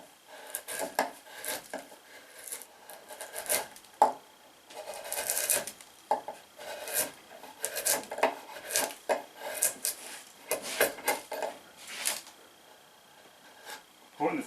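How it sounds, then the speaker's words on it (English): A chisel carves into a wooden bowl with short, repeated scraping and shaving cuts in an uneven rhythm, close and moderately quiet. "so you start with a chisel."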